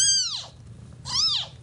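Two clear, close meows from a pregnant foster cat at a humane society shelter in Central Texas, each a falling drawn-out call separated by a short pause, over faint low background hum.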